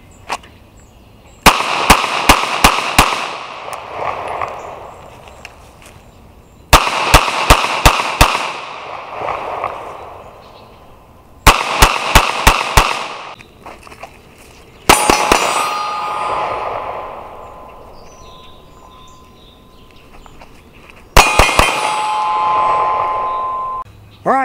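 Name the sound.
pistol shots ringing steel target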